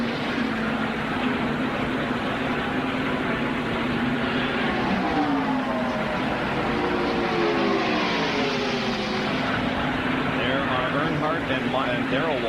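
Stock cars racing wide open at full throttle in the 1991 Winston 500, a steady dense engine roar throughout with shifting pitch as cars pass, under continuous commentary.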